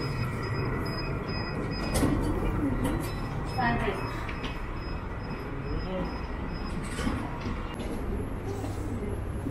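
A tram at an airport in Turkey rumbles along the rails with steady low rolling noise, a high whine and occasional clanks, while people talk faintly nearby.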